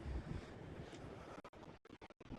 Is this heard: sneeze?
no